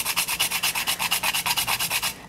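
Whole nutmeg scraped across a grater in quick, even back-and-forth strokes, about eight rasps per second, close and dry, for a couple of seconds with no talking.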